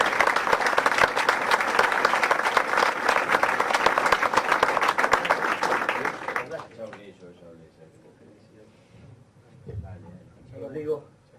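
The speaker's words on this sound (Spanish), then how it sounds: "así que un aplauso para Guillermo y vamos a escucharlo" Audience applause for Guillermo at an economics talk, a loud, dense burst of clapping that lasts about six seconds, then drops away to quiet room noise and faint sounds.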